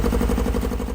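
An abandoned 1980s supercar's engine runs steadily at idle after 30 years, a low, even rumble with a faint rhythmic pulse, close by and alone.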